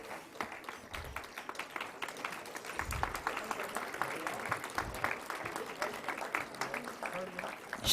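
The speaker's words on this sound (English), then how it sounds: "Please give a big round of applause." Audience applause for Indian classical dance performers, Kathakali and Bharatnatyam, at a summit stage event: a steady field of moderate clapping from a seated crowd that holds throughout, with faint talk beneath.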